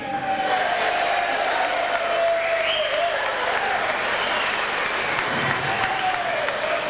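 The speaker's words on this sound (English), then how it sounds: "let's give a big round of applause, please" An audience applauds the mayor of Ballarat, Councillor Judy Berlin, at a civic evening event: a steady, dense wash of clapping hands from a crowd, with faint tonal whistles or feedback threading through it.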